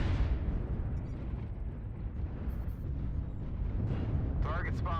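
Missile explosions rumble in the MechWarrior Online video game, a continuous low, booming roar of blasts over several seconds, with a brief electronic chirp near the end.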